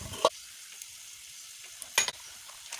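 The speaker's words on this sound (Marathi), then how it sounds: "बघू शकता आपला कांदा लालसर तळलेला आहे" Onion, chillies, peanuts and turmeric frying in a pan for upma, a soft steady sizzle with two brief louder stirring scrapes, no talking.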